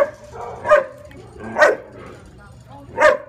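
A puppy at an animal shelter barks three times in short, evenly spaced yips, close and loud, with faint voices and kennel noise underneath.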